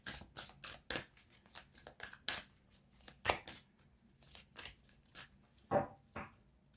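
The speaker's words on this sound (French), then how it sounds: "Je vais aller tirer donc deux autres cartes avec cette carte" Tarot cards drawn and shuffled, a series of quick soft papery riffles and slaps spread irregularly through a quiet room, with a few sharper card snaps standing out, no talking.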